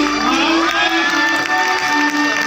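Crowd cheering and clapping for the Maharashtra Haldi Samrat winner at an award ceremony, loud and continuous, with shouted whoops and high voices riding over a dense wash of noise close to the listener.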